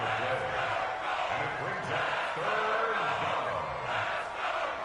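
A stadium crowd at a football game roars and cheers in a steady, loud wash of massed voices building ahead of a big third down.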